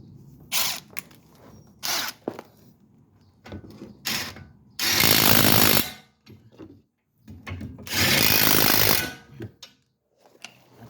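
An impact wrench tightens a wheel bolt on a Nissan Juke in loud bursts: several short rattling hammer pulses, then two longer sustained runs of a couple of seconds each, close and separated by quiet pauses.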